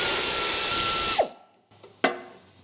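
A ratchet wrench works a 9/16 bolt on the battery box of an old rusty U23 truck frame, giving a brief burst of dense ratcheting clicks and then a short release noise, all up close and with no talk.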